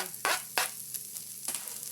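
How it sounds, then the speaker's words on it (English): Chopped garlic sizzles and spits in a hot pan close up, with a few sharp scraping stirs punctuating the steady frying hiss. "So this has been frying for 5 minutes."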